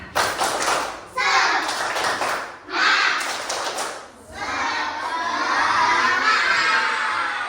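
Schoolchildren in a class doing a rhythmic cheer clap, loud bursts of shouting voices and clapping in quick patterned sections, ending in sustained cheering and clapping.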